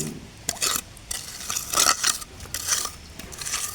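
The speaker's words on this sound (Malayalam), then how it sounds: "നല്ല വലുപ്പത്തിലുള്ള ചട്ടികൾ എടുക്കുകയാണ്" Large plant pots knock and clink together several times at an irregular pace, with scraping between the louder bumps as they are moved about nearby.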